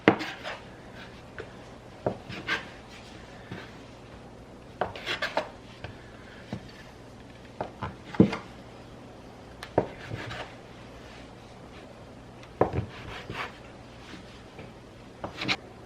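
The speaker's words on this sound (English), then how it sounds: "now we're supposed to divide the dough into 8 equal pieces" Dumpling dough is cut into pieces on a floured bench, giving a series of soft, irregular chopping taps and rubbing scrapes, quiet and close, spaced a second or two apart.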